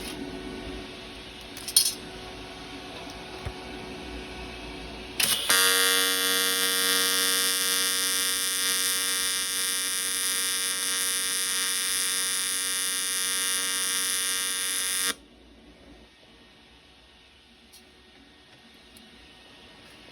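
A TIG welder on a soccer-ball practice kit gives a steady, loud electrical buzz with a bright harmonic whine that lasts about ten seconds, then cuts off sharply. Quiet room noise comes before and after the tack weld.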